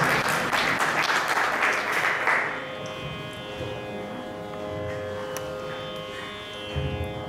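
Audience applause at a Carnatic classical vocal concert, a burst of clapping fading after about two seconds as a drone instrument hums steadily underneath.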